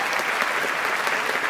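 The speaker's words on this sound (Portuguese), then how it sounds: "Salve de palmas pra Growth" Loud, dense applause from a comedy show audience, continuous and steady throughout with no talk over it.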